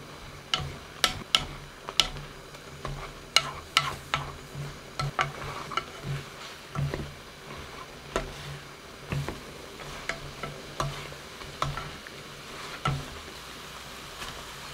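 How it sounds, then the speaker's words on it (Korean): Oyster mushrooms with perilla seed powder are stir-fried in a pan, with a soft steady sizzle under repeated, fairly regular scrapes and taps of the spatula against the pan, close and moderately loud, with no talking. "들깨가루를 듬뿍 3스푼 넣고 물이 쫄아들 때까지 볶아주시면 됩니다."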